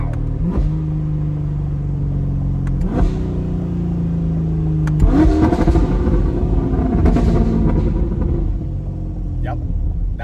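A tuned Chevrolet C8 Corvette with a Bad News Racing ECU tune revs hard several times close by, its engine rising in sharp bursts and rumbling loudly between them.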